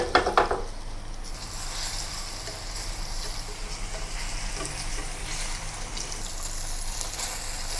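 Tofu frying in oil in a non-stick pan, a steady close sizzle and crackle that follows a brief clatter at the start and carries on evenly throughout.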